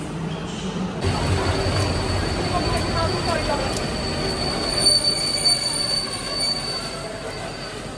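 A train's wheels squeal steadily against the rails at a station platform in Poland, with a high metallic whine over a broad rumble, loud and continuous throughout.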